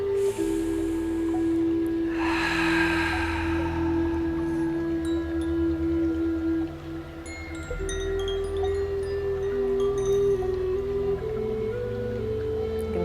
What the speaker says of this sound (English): We'll close this practice together with an inhale and an exhale.